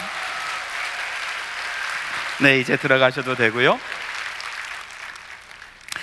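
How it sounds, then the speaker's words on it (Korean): A church congregation applauds children after a skit drama on Children's Sunday, soft clapping heard before and after a voice that speaks briefly over it in the middle. "드림 어린이 크게 다시 한번 박수 한번 내주시기 바랍니다"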